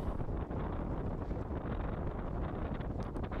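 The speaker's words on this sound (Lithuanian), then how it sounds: "Ir dirbam šiek tiek prieš vėją." Headwind roars across the microphone of a rider during a Lithuanian mountain bike marathon, a loud, steady rushing buffet that continues throughout without speech.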